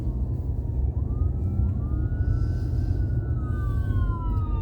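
Siren wailing in afternoon traffic in the Northeast US, a rising and falling tone carried over steady road rumble from inside a moving car, moderately loud and continuous.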